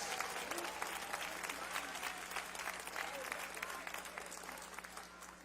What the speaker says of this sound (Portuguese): Pode aplaudir, porque Ele merece.